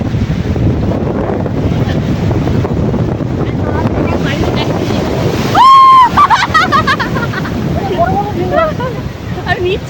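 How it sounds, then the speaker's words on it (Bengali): Surf washing in at a river mouth beach at Digha under heavy wind buffeting the microphone, a continuous roar with a person talking over it. "দেখো ঢেউগুলো ধর আমার ঢেউগুলো তো ভালো লাগে"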